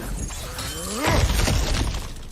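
Objects smashed apart in God of War Ragnarok, a sharp crack and shattering burst with scattering debris that trails off over about a second.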